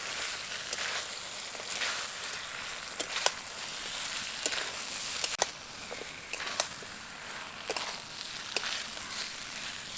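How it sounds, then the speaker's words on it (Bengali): Mixed vegetables for Bengali shukto frying in a pan with mustard paste and spices, a low, even sizzle broken by frequent sharp clicks and scrapes of stirring. "এবার মশলার সাথে সবজিগুলোকে খুব ভালোভাবে নেড়ে নেব।"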